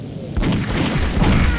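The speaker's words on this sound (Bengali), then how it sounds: "sniper shot bro" Sniper rifle fire sounds in the Mini Militia video game, with a couple of booming shots heard over a dense, noisy game backdrop.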